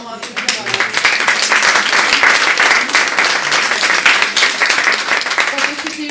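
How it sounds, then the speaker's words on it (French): Audience applause at a medical staff awareness session for firefighters in Lons-le-Saunier: dense, continuous clapping from a sizeable group, steady and fairly loud for about six seconds, with some voices mixed in. "je pense qu'on peut vraiment applaudir"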